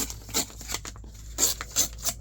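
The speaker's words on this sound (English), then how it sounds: "I just love the sound of ripping paper." Scrap paper and index cards are torn by hand to strip off white edges, giving several short, crisp ripping bursts in quick irregular succession, close up and fairly quiet, with no talking.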